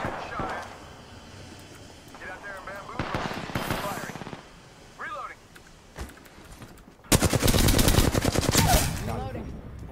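Bursts of automatic gunfire in the Apex Legends battle royale game, scattered shots early then a long loud rapid volley near the end, with players talking over parts of it.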